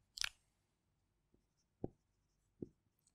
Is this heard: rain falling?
no